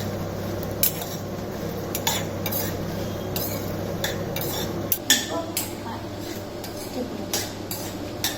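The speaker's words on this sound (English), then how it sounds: "You need to saute this for some time." Dried red chillies sautéing in a pan for coconut sodhi, with a soft sizzle under repeated metallic clinks and scrapes of a spoon against the pan, and a voice speaking over part of it.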